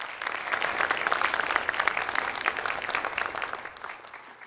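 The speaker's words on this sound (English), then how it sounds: "can we have a big, big round of applause for all of these people?" An audience at a dance debut performance breaks into a big round of applause, dense crowded clapping that swells quickly, stays full for several seconds, then starts to fade.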